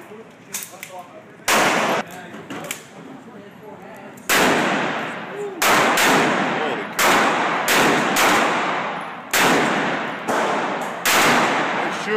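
Gunshots at a pumpkin shootout target-shooting event, including Magnum shots, ring out as loud, sharp reports fired irregularly, about a dozen blasts with short gaps, while people talk between them.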